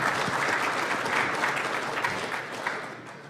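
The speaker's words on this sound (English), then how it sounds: "Warm round of applause" Warm applause from a conference audience before a security talk begins, a dense and even wash of clapping that slowly tapers off.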